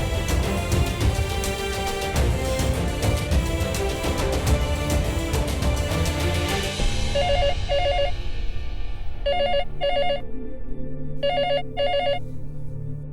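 A telephone rings on an outgoing call to a landline, with repeated electronic double-ring bursts that grow clear as the background music fades, loud and steady with no talk.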